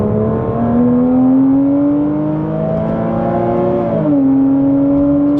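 A Porsche Cayman engine on track at Blyton Park holds a loud, sustained high-revving whine that climbs steadily, then dips briefly with a gear change before pulling again.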